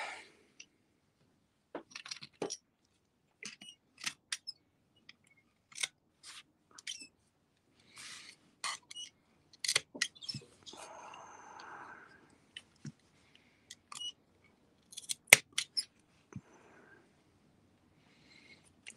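Intermittent close snips of dull scissors, irregular and crisp, with a brief rustle midway and quiet gaps between cuts.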